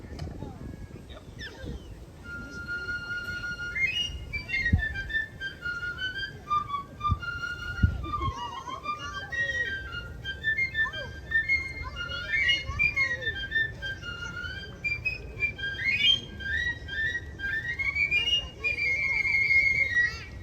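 Solo whistled melody of a march tune, performed at a civic band's outdoor young person's concert, a clear wavering line carried over low crowd and ambient noise for about twenty seconds.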